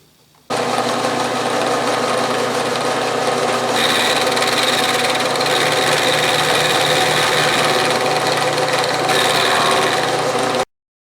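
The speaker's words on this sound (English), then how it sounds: "I'm simply going to mill it to the two lines there to form that notch" End mill on a milling machine cutting a notch into a Greenfield tap wrench, a steady close machining whine with a rich, continuous tone that holds evenly for about ten seconds before stopping abruptly, with no talking.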